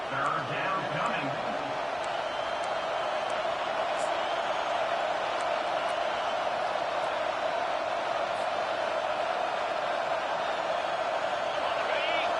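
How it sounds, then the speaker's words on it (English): A stadium crowd in a college football video game roars on third down as the defense gets set. The roar is loud, dense and steady for the whole stretch, with a commentator's voice on top. "Decibels rising as the crowd gets behind this defense on third down."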